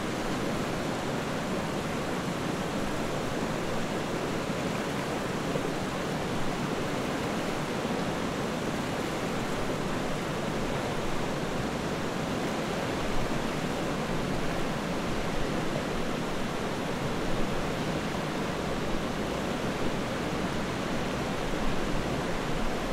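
Steady broadband rush of flowing river water on the Miami River, continuous and fairly loud with an even texture throughout and no voices.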